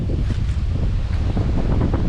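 Strong wind buffets the microphone on a high hilltop, a continuous loud gusty rushing roar with no talking.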